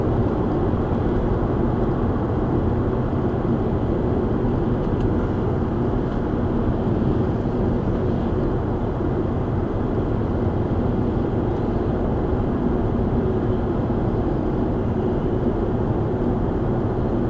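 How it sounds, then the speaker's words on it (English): Steady low road and tyre rumble inside a moving car, recorded by a Uniden iGO dash cam, a constant broadband drone with no voices. "This car does have a bit of road noise"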